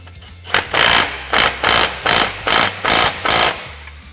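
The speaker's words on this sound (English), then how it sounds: "So now we'll just go ahead and fully tighten our lower ball joint pinch bolt." Tightening the lower ball joint pinch bolt on a Can-Am Commander: a loud, close power tool fires a rapid, evenly spaced series of short rattling bursts.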